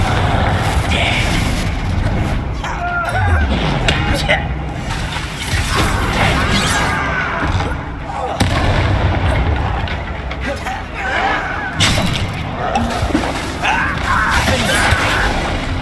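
A Confringo blasting curse explodes in the Hogwarts Legacy video game, loud crashing blasts over a dense, constant mechanical game din, with voices speaking through the mix.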